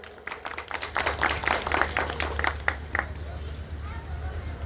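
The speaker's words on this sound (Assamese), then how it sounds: "সকলোৱে হাত চাপৰি বজাব লাগে।" An audience at a carrom club prize-giving ceremony claps in a brief burst of scattered applause, with background murmur and a voice over it.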